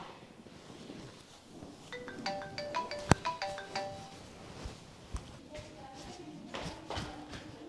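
A short melodic ringtone chimes in a repeated pattern of bright tones, mid-level, over background noise and scattered movement sounds.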